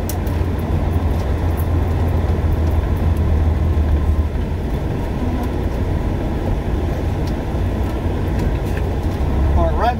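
A pickup truck with its catalytic converter stolen pulls up and backs into a parking spot beside a trailer, a loud, steady low engine rumble running without pause from start to finish.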